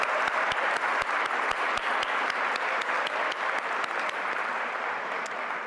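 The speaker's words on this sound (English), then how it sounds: "I know that it feels strange to clap after a prayer, but I do want to acknowledge those students and their leadership." An audience at a fundraising event claps after a prayer, a steady wash of applause with a few sharp individual claps standing out, sustained and fairly loud with no speech.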